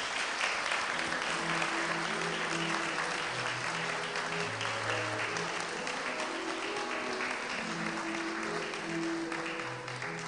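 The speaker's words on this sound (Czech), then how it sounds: "Velký potlesk!" Sustained audience applause fills a hall at the Hradec Králové city annual awards ceremony for 2016, dense and steady throughout with a faint musical tone running underneath.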